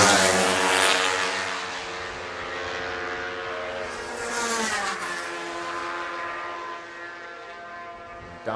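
Supersport 300 racing motorcycles at the Cookstown 100 road races scream past on the public road course. A loud engine whine swells and falls as a bike sweeps by midway, and engine noise carries on before and after.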